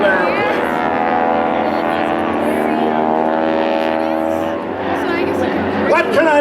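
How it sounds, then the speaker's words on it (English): A vintage propeller airplane flies staggered hammerheads at a 2004 air show in Gary, Indiana. Its engine gives a loud, steady, harmonic drone that swells and dips slightly, with a voice over it near the end. "each airplane will stop, literally, pivot on his own axis, come straight down out of the sky"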